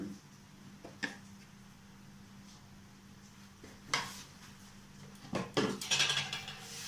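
Spoons of gram flour go into a bowl for chicken pakora batter, with several sharp clinks of spoon on bowl and soft scraping between them, near and distinct with no talk.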